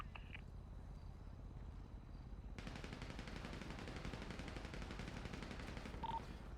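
Gunfire during a breach in GTA V NoPixel roleplay: a dense stream of rapid shots begins partway through and keeps going steadily to the end, with faint radio-style chatter.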